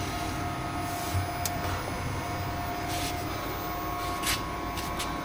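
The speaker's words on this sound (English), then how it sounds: "The fans to this unit have come on." Cooling fans of a battery charging unit running, a steady close whirring drone with a faint tonal hum, interrupted by a few brief clicks.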